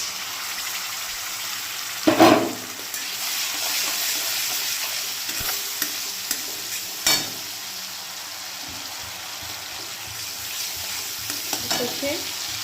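Mustard and poppy seed masala paste with turmeric and tomato paste frying in oil in a pan, giving a steady soft sizzle with a few louder stirring scrapes and knocks, close and without voices.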